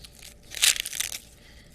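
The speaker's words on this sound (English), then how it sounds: "the best thing to do is to actually take the husk off" Husk being torn off an ear of corn, a brief crinkly tearing rustle that peaks in two quick bursts close by, then fades.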